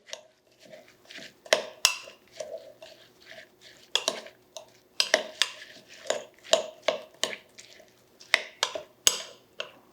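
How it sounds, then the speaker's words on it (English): Oats, chopped pecans and liquid being stirred together for a blueberry crisp topping, with a spoon scraping and clinking against a bowl in an uneven, repeated rhythm, close and moderately loud. "We'll just mix those ingredients all together, get those oats and the liquid combined nicely."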